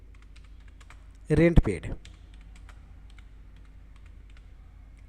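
Quick bursts of key clicks on a computer keyboard while a narration is entered into a Tally accounting entry. The typing is light and close under a steady faint hum, and a brief spoken phrase interrupts it partway through.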